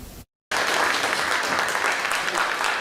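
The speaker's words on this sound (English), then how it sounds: "Thunderous applause filled the Decatur City Council chambers" Loud, dense applause fills a city council chamber after a planning board vote, sustained clapping from a crowded room following a brief silent gap.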